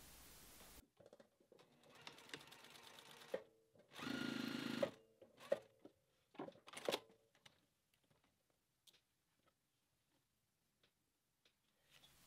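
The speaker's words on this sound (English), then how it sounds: "let's head over to the sewing machine" A sewing machine whirs in a short burst of stitching quilt binding strips together, with scattered ticks and clicks before and after, close up and fairly quiet.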